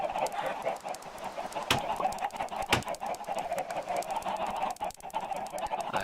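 Chickens clucking in the Minecraft video game, a steady chorus of overlapping clucks and squawks from a flock, with a few louder sharp calls standing out.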